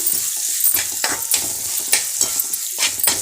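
Spices, garlic and green chillies frying in oil with turmeric give a loud, continuous sizzle broken by rhythmic scraping bursts from a spoon stirring the pan every half second or so.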